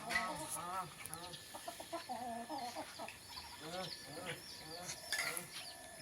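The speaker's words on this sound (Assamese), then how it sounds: "এইফালে কুকুৰা চাউল ছটিয়াই দিছে খাবৰ কাৰণে" Chickens pecking at rice scattered on the ground around a rural Assamese home cluck and chatter in short repeated bursts, faint and close, with people talking alongside.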